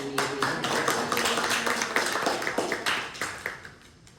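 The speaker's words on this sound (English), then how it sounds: "Let's do a little round of applause for Nancy." Audience applause at a violin and viola master class, a steady patter of many hands clapping in a room, moderately loud and dense, then thinning and tapering off toward the end.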